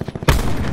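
Gunfire in Call of Duty Black Ops 4 Blackout battle royale, fired through a wall: a sudden loud burst of rapid shots lands after a quieter stretch, then keeps rattling densely to the end.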